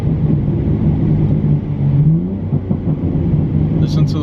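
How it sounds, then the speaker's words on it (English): A stock-exhaust BMW G80 M3 rumbles close by at idle, its deep low burble steady with a brief rise in engine note midway, and people talk over it. "Listen to those stock burbles,"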